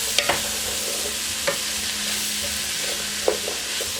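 Vegetables and cherry tomatoes sizzle steadily in a frying pan for a frittata, a close, even crackle with a few light clinks and scrapes of stirring.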